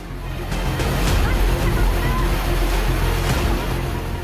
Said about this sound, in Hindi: तस्वीरें देखिए, पानी कैसे बह रहा है